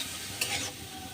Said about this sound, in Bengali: এখন আমি এখানে আলু কুচিয়ে রেখেছিলাম লম্বা লম্বা করে, সেটা দিয়ে একটু ভালোভাবে মশলার সঙ্গে কষিয়ে নিচ্ছি।